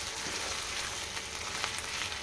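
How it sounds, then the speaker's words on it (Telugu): Onions fry in a pan for a chicken curry, giving a close, continuous sizzle and crackle with a few faint pops, at a steady level and with no voices. "ఆనియన్ బాగా ఫ్రై అయిపోయినాయి"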